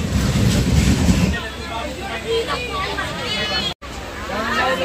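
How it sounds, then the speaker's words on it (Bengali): The Digha–Howrah Tamralipta Express pulls into Ramnagar station in Bengal on a hot day, giving a loud rumble with clattering wheels and crowd babble, as a voice talks over it. "10:44 দীঘা হাওড়া তাম্রলিপ্ত এক্সপ্রেস এখন 12:10 ঢুকছে এখানে রামনগর বেঙ্গলে।"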